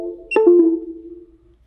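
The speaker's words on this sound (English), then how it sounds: "You can hear Windows play the sound when the tag is placed on the reader." A Windows device-added chime plays as an NFC tag is placed on a desktop reader: a single short, clear two-tone electronic sound that rings briefly and fades.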